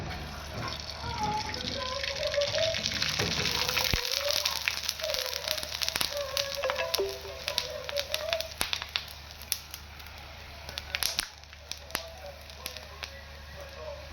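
Kurdai (fryums) frying and puffing up in hot oil, a steady close sizzle with bursts of crackling that fade slightly toward the end.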